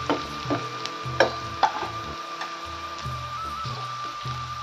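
Chopped onion sautéing in a pan until reddish-brown, a soft steady sizzle with light stirring clicks and scrapes of the spoon against the pan, close and fairly quiet, with no talking.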